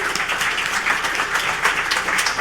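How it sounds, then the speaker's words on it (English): A conference audience applauds the lightning pitchers in a hall, a steady, dense wash of many hands clapping at moderate loudness with no voices over it. "a big round of applause"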